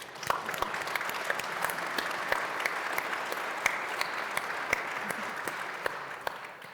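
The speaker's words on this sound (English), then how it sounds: "let's give them a round of applause" An audience at a veterans' psychedelic care event breaks into sustained applause, a dense, even wash of many hands clapping that holds steady for several seconds before easing off at the end.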